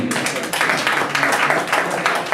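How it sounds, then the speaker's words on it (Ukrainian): Clapping from players and guests at the awards ceremony of a What? Where? When? quiz league final in Horodenka, Ukraine, a brisk, fairly close round of applause lasting a couple of seconds. "Оплески."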